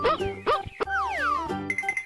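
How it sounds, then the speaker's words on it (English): Cartoon dog barks: two short bouncy yips, then a long sliding whistle-like tone falling in pitch, ending with a brighter chime. "Dog."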